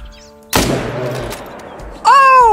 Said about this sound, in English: I'm gonna quickly stand up, and then I'm gonna take my shot.